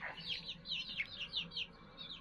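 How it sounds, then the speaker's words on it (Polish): Older backyard hens make soft, repeated clucks and chirpy calls, a quiet run of short vocalizations over low background noise. "To są te starsze kurczaki nasze."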